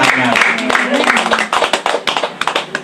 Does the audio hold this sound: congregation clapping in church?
yes